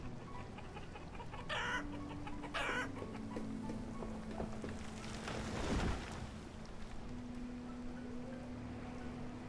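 Chickens in a village-building game, a few scattered clucks and brief squawks over a faint, quiet ambient background.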